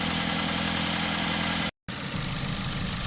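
A vehicle engine idling while it warms up after coolant dripped onto the exhaust, a steady close droning hum that cuts out for a split second before resuming.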